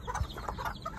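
A crested hen clucks among chicks in a farmyard, soft short clucks repeating irregularly, fairly close, with no talking.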